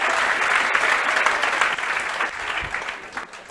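An audience at a coaching institute's gathering breaks into loud, steady clapping, a dense burst of applause that tapers slightly toward the end.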